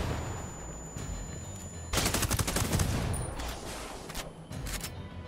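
Rapid automatic gunfire from the Ghost Recon Wildlands video game bursts in after a quieter stretch, a dense volley of sharp shots followed by scattered later bursts.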